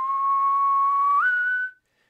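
A clear whistled tone held steadily, then sliding up to a slightly higher note before stopping into silence.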